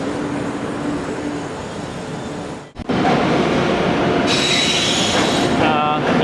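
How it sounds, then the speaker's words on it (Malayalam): A train pulls into Thiruvananthapuram Central station, a steady loud rumble of wheels and carriages that briefly dips, then returns with high metallic wheel squeal and brake screech building toward the end. "ആ വണ്ടിയും ഒന്നിച്ച് കയറി വരികയാണ് തിരുവനന്തപുരം സെൻട്രലിൽ"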